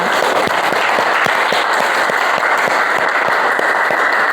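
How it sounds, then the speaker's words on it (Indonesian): Classroom applause, dense continuous clapping from a group, fairly loud and close, with a few sharper individual claps standing out in a loose rhythm. "Tepuk tangan untuk kita semuanya"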